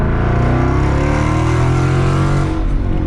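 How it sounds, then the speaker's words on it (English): Ford Mustang GT 5.0 V8 with an MBRP race exhaust, revving hard through the upper range, a loud, close, continuous snarl that climbs and holds before easing slightly at the end. "The way it screams through the upper RPM band"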